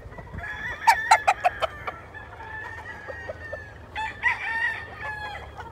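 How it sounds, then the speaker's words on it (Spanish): Crossbred roosters crowing in a rooster yard, a nearby bird giving a sharp series of clucks followed by a long drawn-out crow, then a second crow a moment later, over quiet background. "Aquí está un gallo cruzado."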